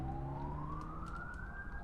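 A siren in The Drifter video game wails in a slow rising sweep, distant and somewhat faint over a low rumbling background, with no talk.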